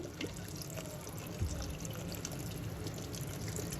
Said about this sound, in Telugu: కొంచెం నీళ్ళు వేసానండి